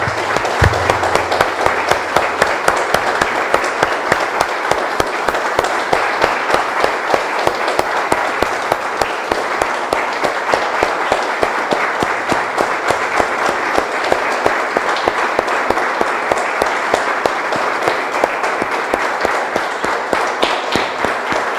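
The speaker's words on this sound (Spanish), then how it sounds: "Damos un aplauso, hermanos, al Señor" A church congregation gives a long round of applause to the Lord after a prayer: dense, loud, sustained clapping from many hands that continues evenly for over twenty seconds without talk.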